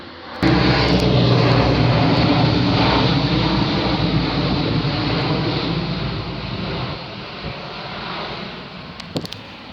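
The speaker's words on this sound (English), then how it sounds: "That military plane has been flying around overhead my city all day." A military troop transport plane flies overhead, giving a loud, steady propeller-engine roar that starts abruptly and fades slightly toward the end.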